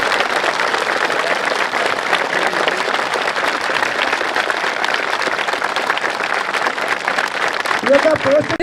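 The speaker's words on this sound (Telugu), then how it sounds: "ఒక్కసారి గట్టిగా మీలో ఉన్న శక్తిని బయటకు తీయాలంటే ఒక్కసారి క్లాప్తో కొట్టండి గట్టిగా" A large audience at a charitable trust event for young police trainees in Hyderabad, Telangana, claps hard in a loud, sustained wave of applause. A voice comes in near the end.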